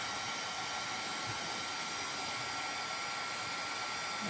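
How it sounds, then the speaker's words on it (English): Heat gun blowing steadily to melt embossing powder on a handmade card, a constant close whooshing roar of fan and hot air from start to finish with no talk. "Turn on that heat embosser. Or that heat gun."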